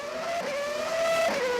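Formula E race cars at the 2018 Mexican V-Prix scream past at full speed down a straight, a steady high electric whine rising and shifting in pitch over a continuous roar, loud and close throughout.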